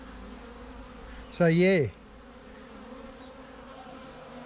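A swarm of honey bees fanning gives a steady, low buzzing hum throughout, with a voice briefly speaking over it near the start.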